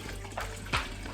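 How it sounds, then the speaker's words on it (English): Water is poured into a pot over fish heads to make stock, giving a short close-up gush and splash with two quick surges over a steady watery background and no voices. "I just put basically enough water to cover the heads"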